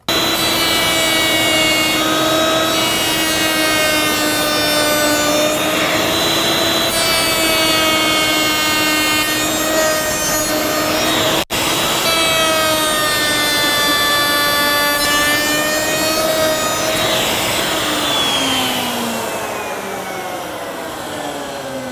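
A wood router cuts a profile through wood guided by a GRR-ripper and a coping sled. It gives a loud, sustained, steady whine for about twenty seconds, then spins down at the end.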